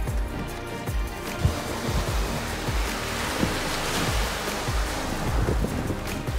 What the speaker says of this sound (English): I just stopped on this rocky beach just to have a moment with the ocean and mango